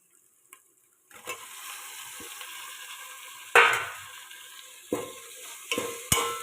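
Chopped tomatoes and green chillies dropped into hot oil sizzle steadily, with sharp scraping stirs of a spatula against the pan at intervals, close up and with no talking.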